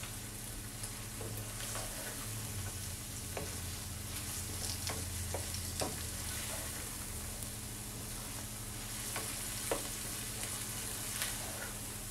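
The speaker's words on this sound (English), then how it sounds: "I'm gonna keep on sauteing it and I will be back." Vegetables for a loaded Polish sausage sauté in a pan with a steady, close sizzle and crackle, broken by occasional stirring scrapes and clicks, with no talking.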